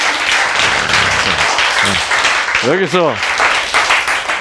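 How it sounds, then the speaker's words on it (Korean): Applause from a congregation during a sermon on the Book of Jonah, a continuous broad clatter of hands with a voice and other voices speaking over it. "박수 한번 쳐야지."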